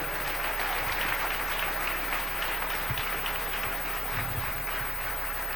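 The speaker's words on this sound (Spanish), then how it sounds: "Dele un aplauso al Rey." Steady congregational applause fills a church during a sermon by Pastor Jorge Garcia, dense continuous clapping at moderate distance with no talk over it.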